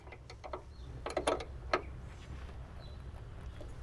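Metal wrench working loose a 12 mm bolt on the trunk strut of a Toyota Soarer, a few quiet ratcheting clicks and metallic ticks in a short burst, then faint handling noise over a steady low background hum.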